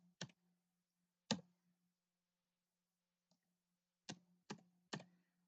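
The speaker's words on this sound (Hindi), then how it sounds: "तो कितना मैंने यहाँ पे लिखा है चलो फिर से हम ऐसे टाइप करेंगे।" Keys clacking on a computer keyboard during accounting data entry, heard as a few separate sharp clicks, then a quick burst of three near the end, close and fairly quiet, against a low steady hum and no speech.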